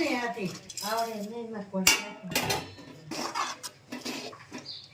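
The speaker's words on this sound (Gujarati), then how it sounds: "જો સિંગ અને ગોળ મિક્સ કરી દેવાનો છે." Peanuts stirred into hot jaggery syrup in a pan for chikki, with clattering scrapes and metallic clinks from the spoon against the pan, close, while a person talks over the mixing.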